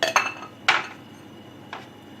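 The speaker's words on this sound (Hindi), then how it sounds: "चने डाल रही हूँ" Chickpeas go into a bowl for dahi bara chaat. Three short clinks and clatters of spoon and bowl sound close by, spaced unevenly over a quiet background.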